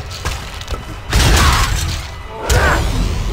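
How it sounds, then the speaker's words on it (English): Heavy crashing hits and shattering bursts from a hammer-wielding character smashing undead enemies in Torchlight 2, two loud impacts with rattling debris and mechanical clanks between them. "We're smashing our way through these undead."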